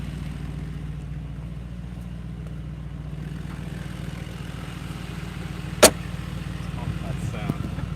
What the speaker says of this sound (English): you can hear the baffles and the exhaust open up